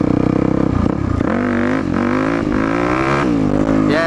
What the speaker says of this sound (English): This is too sandy. I'm spinning the wheel.